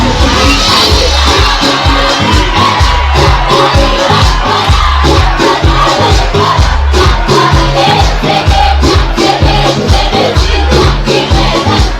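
A large crowd shouts, whoops and cheers loudly and continuously at a man in a white shirt, black trousers and tie dancing on stage to African music, with rhythmic low thumps running beneath the roar.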